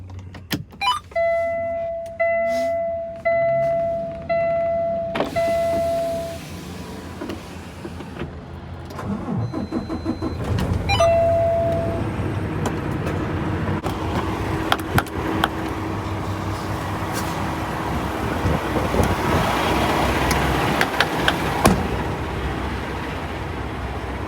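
A semi truck pulls out from a loading dock door, its reverse or warning beeps repeating at the start, then the diesel engine rumbles and builds steadily under creaks and clanks from the trailer.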